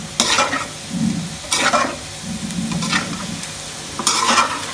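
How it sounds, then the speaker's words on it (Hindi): Arbi (taro root) frying in a pan for arvi gosht, with a steady close sizzle broken by four bursts of spoon-scraping stirring. "तब तक हमारी अरबी माशाल्लाह से फ्राई हो रही है"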